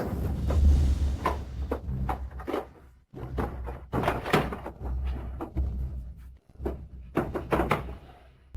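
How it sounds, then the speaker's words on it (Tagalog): A drawer is pulled open with a run of wooden thunks, scrapes and rattles in several bursts, fairly close and moderately loud, with no talking. "Yung tunog ng pagbubukas mo ng drawer, hindi ba pwedeng hinay-hinay lang?"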